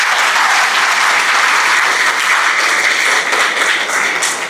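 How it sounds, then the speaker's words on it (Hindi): A seminar audience at a real-estate business training session claps loudly and without a break for several seconds, a dense wall of hand claps. "एक बार फिर जोरदार तालियां बजाइए आपने"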